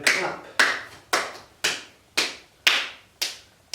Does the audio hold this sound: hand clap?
yes